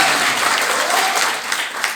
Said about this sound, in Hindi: एक बार जबरदस्त तालियां होना चाहिए स्मार्ट वैल्यू मैनेजमेंट